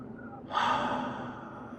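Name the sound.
breathing in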